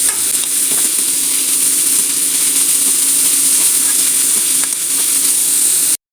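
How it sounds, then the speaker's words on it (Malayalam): Two chopped onions sautéing in strained oil, a loud, steady sizzle and hiss close by that runs unbroken for several seconds and then cuts off abruptly. "അതിലേക്ക് ഒരു 2 സവാള അരിഞ്ഞതിട്ട് കൊടുക്കാം. നന്നായിട്ടത് വഴറ്റിയെടുക്കാം."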